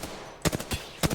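Gunfire in the video game Apex Legends, heard as two quick bursts of sharp shots after a quieter stretch of low background, each burst three or four cracks in fast succession.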